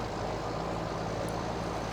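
John Deere tractor engine from Farming Simulator 15, a steady, continuous low drone with a constant hum and broadband rumble, even and unbroken throughout.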